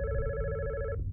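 Telephone ringing in the horror video game God's Basement, a single steady electronic ring lasting about a second and cutting off abruptly.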